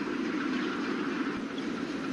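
A newly built locomotive pulls a train along the rails, a steady, moderately loud rumble and rolling noise that stays even throughout with no voices.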